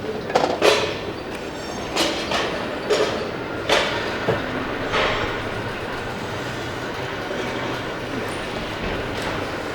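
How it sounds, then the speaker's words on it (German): A caravan at the Knaus Tabbert factory rolls on its own wheels along the production line, giving a rumbling, clattering run with a few sharp knocks and clanks early on, then a steadier mechanical rumble. "Das Fahrzeug fährt auf eigenen Rädern."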